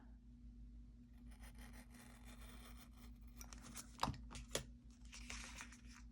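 Scissors cutting a square of paper for a planner, very faint close rasping snips, quiet and steady, ending with a few slightly sharper crisp cuts, no talking.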